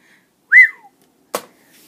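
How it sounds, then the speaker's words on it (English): A person gives a short, bright rising-and-falling whistle, loud and close, followed after a pause by a brief sharp noise. "Can I get a whistle on that?"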